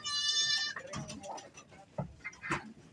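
A goat bleats close by on a farm with a sharp, wavering cry at the start. Quieter livestock sounds and a few soft bumps follow in the background.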